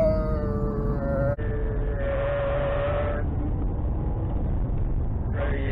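An Alfa Romeo 156 accelerates in gear from 20 to 60 mph, its engine note droning and climbing through the revs, dropping briefly at a gear change before rising again, heard from inside the car.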